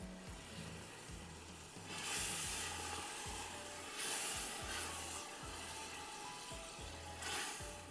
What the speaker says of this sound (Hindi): अच्छी तरह से भूनिए।